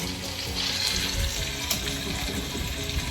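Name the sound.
chicken sizzling in pan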